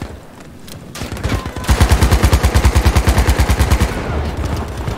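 Rapid automatic gunfire in the shooter game Battlefield V, a loud close burst of evenly spaced shots at a fast, steady cadence that runs for roughly two and a half seconds before cutting off.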